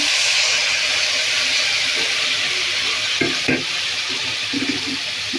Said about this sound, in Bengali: আমি কষাই ফেলছি।